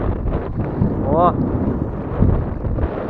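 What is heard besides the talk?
strong wind while fishing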